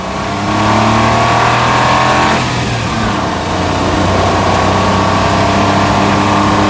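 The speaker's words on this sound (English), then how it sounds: "a bit of extra engine noise this time because I've actually got the engine cover off" Smart Fortwo engine pulling under hard acceleration with the engine cover removed, a loud, steady, close drone whose pitch climbs, dips briefly midway, then rises again without any talking.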